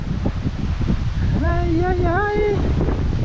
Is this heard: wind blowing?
yes